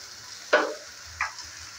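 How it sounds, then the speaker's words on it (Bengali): Eggplant and fenugreek greens stirred in a frying pan with spices, two quick scraping, sizzling strokes of the spatula over a faint background of frying. "নেড়েচেড়ে নিয়ে ভালো করে আবার একটু মিক্স করে নিচ্ছি।"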